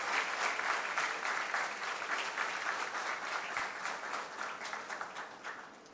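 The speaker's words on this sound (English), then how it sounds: "give a big round of applause" A crowd at the close of a talk on spiritual experience and transformation claps in sustained, even applause, heard from some distance and fading gradually over several seconds.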